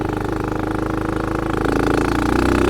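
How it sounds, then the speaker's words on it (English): A dirt bike engine runs in the snow with a rapid, rough mid-pitched pulsing close to the microphone, holding steady and then swelling slightly toward the end. "It's a dirt bike, not a snow bike."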